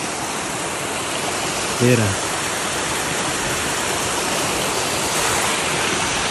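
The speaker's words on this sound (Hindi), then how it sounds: "ये रहा वाटरफॉल" Kelwa waterfall near Boisar in Palghar, running with a reduced flow after light rain, gives a steady broadband rush of falling water throughout, with someone briefly speaking over it.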